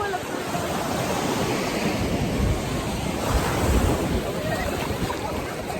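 Ocean waves break and wash along a beach in a steady, broadband roar, with wind buffeting the microphone throughout and no talking heard.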